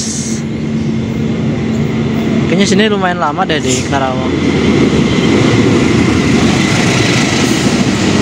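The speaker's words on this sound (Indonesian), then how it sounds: "Ada yang berjalan langsung, ternyata kereta api angkutan barang" A Tikemas container freight train rolls steadily through Karawang station on track 2, a continuous rumble with rail clatter, while a person talks briefly over it.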